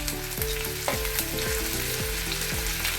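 Cumin, ginger, green chili and onion sizzle steadily in a hot pan, a close, continuous frying crackle with a few stirring scrapes, and no voices.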